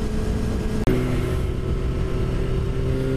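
A motorcycle rides on a road at night toward the Dragon. A steady, close engine drone holds a constant hum, with wind noise and a brief sharp click partway through.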